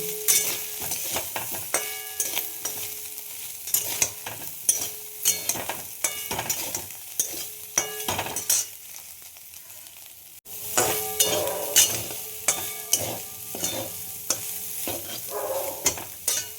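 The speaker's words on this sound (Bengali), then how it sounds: "সব জলগুলো চিপে নিয়ে আমি একটুখানি জাস্ট নেড়ে নেব।" Soybeans sizzle steadily in a pan while a utensil stirs and scrapes with repeated clicks, close by and continuous, with a brief pause midway.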